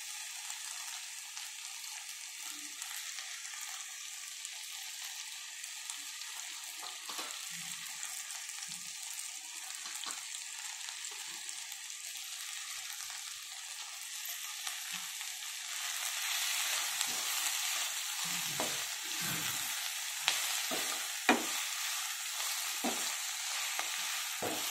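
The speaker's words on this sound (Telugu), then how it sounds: "మెంతికూర వేసాక బాగా ఫ్రై అవ్వాలి." Fenugreek leaves fry in a pan of brinjal and green peas curry, a steady close hiss of sizzling oil with occasional stirring scrapes that grow busier toward the end.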